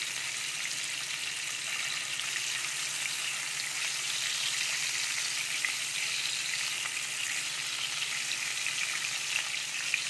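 Pabda fish frying in hot oil in a pan, a steady close sizzling hiss with faint crackles that holds evenly for about ten seconds with no talking.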